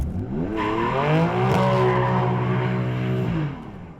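BMW M4 CSi floored from a standstill, engine revving hard and climbing in pitch while the tires squeal loudly, then the revs hold high and drop away near the end.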